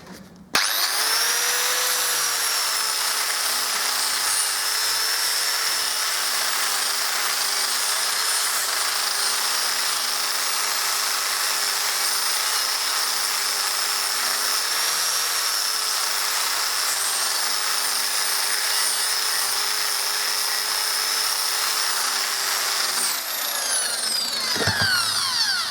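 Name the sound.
power tool with flat wheel stripping an old trolley's metal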